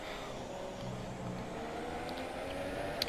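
An F1 car from the F1 2017 racing game accelerates around the Shanghai circuit, its engine a steady, even roar over a broad wash of noise without a clear rise.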